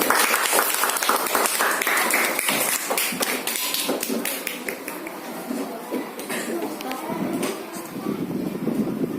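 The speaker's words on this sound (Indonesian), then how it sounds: "tepuk tangan dulu untuk kita semua" A classroom of students applauding, a burst of close, uneven clapping and tapping hands that keeps going at a fairly loud level, with some muffled thumps mixed in.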